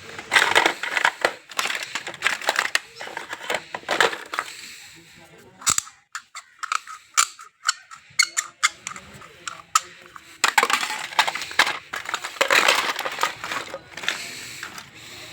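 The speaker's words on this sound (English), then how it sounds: "This measuring tape is broken, but just listen to that sound." A broken measuring tape's mechanism gives off dense, crunchy rattling and clicking in uneven bursts, close and loud, with a quieter stretch of sparse clicks midway before the rattling picks up again.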